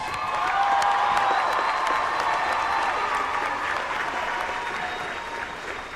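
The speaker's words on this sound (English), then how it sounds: "Let's give our graduates another round of applause." Graduates receive a sustained round of audience applause at a spring university commencement ceremony, dense continuous clapping from a large crowd that holds steady and only slightly thins toward the end.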